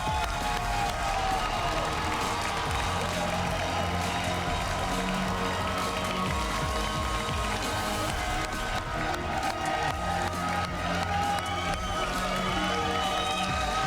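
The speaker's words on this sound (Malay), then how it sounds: "Kita berikan tepukan gemuruh untuk Mio dan Sai." A studio audience at a Malaysian money-drop game show applauds and cheers steadily for the contestant couple, a dense, continuous wash of clapping that stays loud throughout, with faint voices mixed in.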